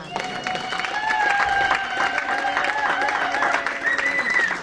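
A church congregation applauds steadily at a French-speaking worship service, a dense, continuous wash of clapping mixed with some cheering and singing tones, holding at a loud level throughout.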